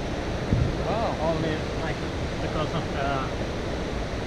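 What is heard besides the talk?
big waterfall in Abisko National Park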